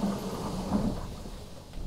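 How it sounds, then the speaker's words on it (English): A gondola cable car in Grindelwald, Switzerland, starts its ascent with a low mechanical rumble and a steady hum, close and continuous, with no speech. "that's the sound of when you go up with the gondola."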